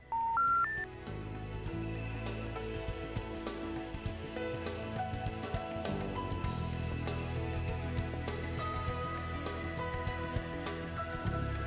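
A two-wire door intercom system linked to an indoor handset gives a short rising series of beeping signal tones at the start, followed by low background sound with faint tones.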